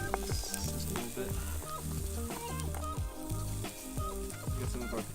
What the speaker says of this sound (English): Let those start kind of sizzle a little bit.